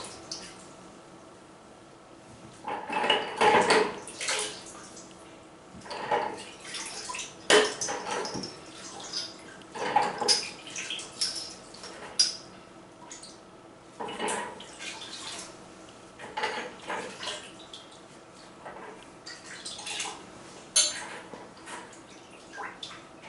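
Baritone and tuba parts are rinsed in a tub of rinse water, giving irregular splashes, drips and sloshing knocks that come and go at moderate volume, with no talking.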